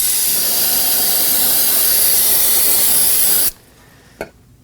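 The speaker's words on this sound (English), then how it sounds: "get some brake cleaner, spray the area down" A loud, continuous aerosol spray of brake cleaner hisses close by for several seconds around a car's front brakes, then cuts off abruptly, followed by a brief faint spurt.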